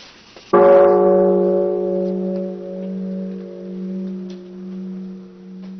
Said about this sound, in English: The sound of the bell, the voice of Buddha.